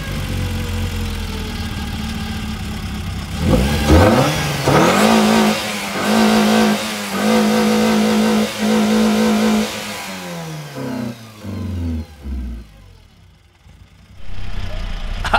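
VW MK1 with a 272 cam and straight intake revs hard repeatedly, loud throaty blips rising and falling near the listener, with rough idle between bursts.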